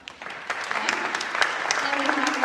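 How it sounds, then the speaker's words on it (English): Congregation applause at a contemporary church service, a short burst of clapping that swells in, with voices mixed underneath. "Give her a round of applause."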